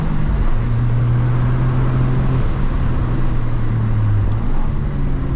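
Engine of a 2024 Toyota GR Corolla Premium hot hatch pulling hard on a mountain road, a steady loud drone with rising and holding tones, recorded from inside the cabin with heavy rumble and no talk.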